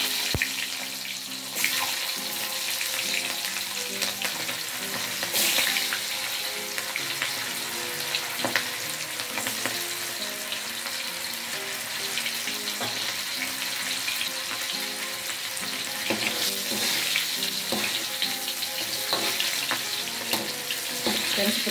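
Shallots and garlic frying in hot oil while making sambal with anchovies and lamtoro give a steady, close hiss and crackle with small pops scattered throughout.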